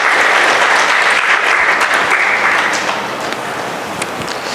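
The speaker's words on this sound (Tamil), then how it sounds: "அவங்க நம்ம எல்லாம் கரகோஷப்படுத்தி வரவேற்பு" Audience at a question-and-answer spiritual gathering applauding to welcome a donor, loud, dense clapping that holds steady and then eases slightly toward the end.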